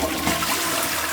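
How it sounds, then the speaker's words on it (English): A Hong Kong hotel room toilet flushes, giving a loud, steady rushing whoosh of water close by and heard alone. "So let's go ahead and do the flush test."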